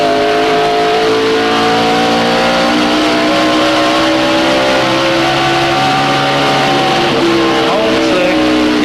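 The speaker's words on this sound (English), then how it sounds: "About as clear as you can hear a motor run." A NASCAR race car engine at the 1999 Dura Lube/KMart 400 roars loudly and holds a high, rising whine, revving close by with shifting pitch as it pulls through a corner.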